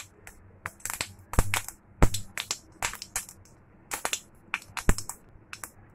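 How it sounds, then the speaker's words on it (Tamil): Mustard seeds spluttering in hot oil, a quick irregular burst of sharp pops and crackles, close and fairly quiet with no talk. "கடுகு ஃபுல்லாக பொரியட்டும்."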